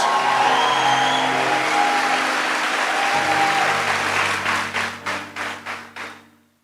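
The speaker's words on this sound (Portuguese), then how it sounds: "Dá uma salva de palmas decente para Deus" Congregation at a religious gathering bursting into sustained applause, a dense wash of clapping under a low musical drone that thins into a few last scattered rounds of claps before fading out.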